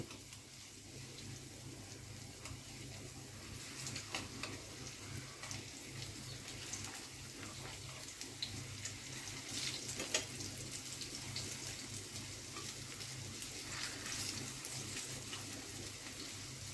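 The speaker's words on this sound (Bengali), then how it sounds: "এবার অন্য সাইডটাও আমি একটু সময় নিয়ে ভেজে নেবো" Water lily flower pakoras frying in hot oil, turned partway through so the other side cooks: a steady, even sizzle and crackle that goes on without a break, with no voices over it.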